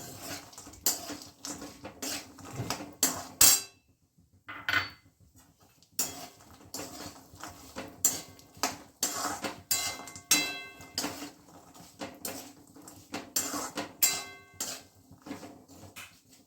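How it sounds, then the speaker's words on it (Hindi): Cashew pieces roasting in a pan with walnuts for sugar-free date laddoos, stirred continuously so the nuts rattle and the spoon scrapes and clinks against metal in rapid, uneven bursts, close up with one brief pause. "अखरोट डालने के बाद इसी में हम डाल देते हैं ये काजू"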